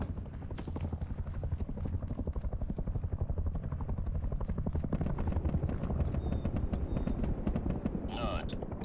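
Helicopter in the video game Rust, a loud continuous rapid rotor chop close by throughout, with a player talking over it and a brief sharp burst near the end.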